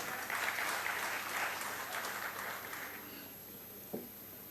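An audience claps in Parliament during the Finance Minister's 2016 budget presentation. The applause is moderate and spread out, fading over about three seconds, with a sharp knock near the end.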